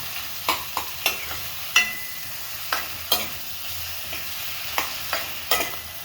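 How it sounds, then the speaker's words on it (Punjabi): Chopped onions frying in a pan while being stirred, a steady sizzle under repeated sharp scraping clicks of a utensil against the pan, close and alone with no voices. "ਦੋ ਜਿਹੜੇ ਪਿਆਜ਼ ਕੱਟੇ ਸੀ ਪਿਆਜ਼ ਵਿੱਚ ਪਾਵਾਂਗੇ ਇਹਨਾਂ ਨੂੰ ਹੁਣ ਥੋੜਾ ਜਿਹਾ ਭੁੰਨਾਂਗੇ"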